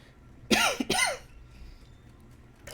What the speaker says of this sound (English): I thought I'm going to cough real quick.